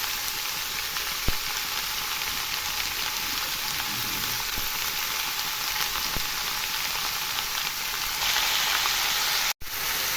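Chopped pui shak greens fry in a pan with turmeric and salt, Bengali style, giving a steady, close sizzle that hisses evenly throughout with no talk, ending in a brief dropout.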